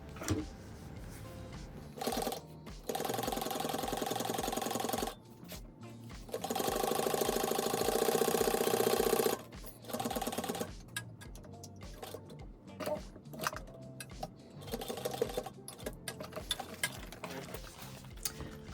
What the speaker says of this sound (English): And now sew all layers at the seam allowance.